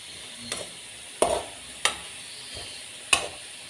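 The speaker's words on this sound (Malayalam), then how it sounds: "നന്നായിട്ട് ഇളക്കി കൊടുക്കണേ" Potatoes coated in spice powders and chicken masala are turned in a pan, a few sharp spoon scrapes and knocks over a faint, steady sizzle.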